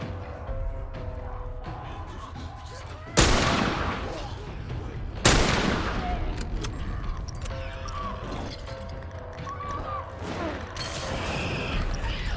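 Two sharp, loud gunshots a couple of seconds apart, then a third later, crack over a low ambient background in the video game The Last of Us.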